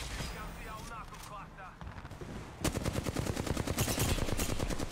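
Apex Legends gunfire in a firefight: scattered game sounds at first, then a sudden sustained rapid burst of automatic shots, loud and close, continuing to the end.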